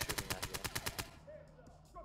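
Rapid automatic gunfire in the tactical shooter game Ready or Not, about ten sharp shots in a fast even burst that stops abruptly, followed by quieter room noise and faint movement.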